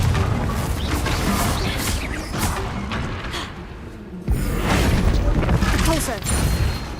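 Confringo fire spell blast in Hogwarts Legacy, a sudden booming burst with crackling debris over busy game combat noise, with a voice speaking over it.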